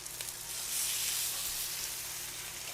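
Fish cooking on a Blackstone griddle gives off a steady, soft sizzle that swells slightly partway through and continues evenly without pause, with no one speaking.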